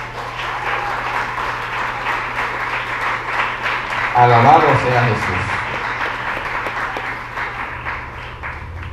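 A church congregation applauds during a sermon, a steady wash of clapping that swells briefly in the middle as a voice calls out, then tapers gently.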